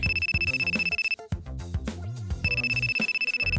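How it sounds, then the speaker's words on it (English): A mobile phone ringtone plays loud and close, a bright repeating electronic melody in two bursts separated by a short musical phrase, with no voices over it. "at that moment, Lance's phone rang"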